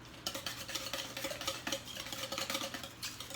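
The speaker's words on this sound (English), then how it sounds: "mixing them up." A utensil stirs wet ingredients for cinnamon sugar pumpkin donuts in a bowl, giving quick, rhythmic scraping and clicking strokes that repeat steadily throughout at a moderate, close level.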